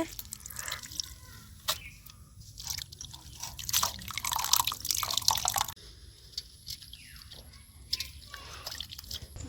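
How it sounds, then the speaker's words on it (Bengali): Chopped cabbage being rinsed with water by hand for pakora, with dripping, splashing and sloshing in irregular bursts close by at a moderate level, and no voices. "আমি জল দিয়ে পরিষ্কার করে ধুয়ে নিব আর এরকম করে চিপে নিব যাতে একটু জল না থাকে"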